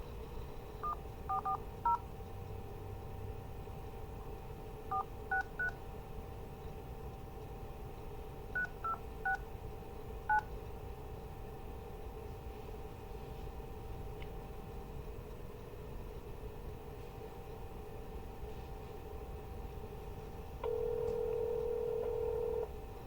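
Telephone keypad tones beep out a number in several quick bursts of short touch-tone pulses while a call is placed, over a steady low background hum, with a sustained tone entering near the end.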